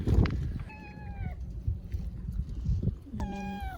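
A cat meows twice, each a clear, close, tonal call, the second one longer, over a background of faint clatter and handling noise.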